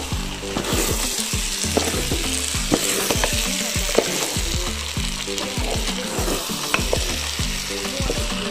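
A pilaou rice mixture fries and sizzles steadily in a pot while a spoon stirs it, with repeated scraping knocks against the pot over a continuous close hiss and no one speaking.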